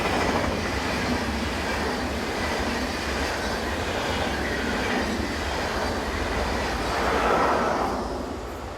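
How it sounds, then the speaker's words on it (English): A Swiss passenger train hauled by a class 460 electric locomotive, running from Chur to Basel, rumbles past with a steady, dense roar of wheels on rails, moderately loud and continuous, with no voices. "Sister locomotive number 460-053 is on the rear of the 909 from Chur to Basel."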